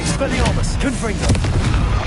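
Confringo spell explosion in the Hogwarts Legacy video game, a loud, dense burst of booming blasts under game voices and combat noise.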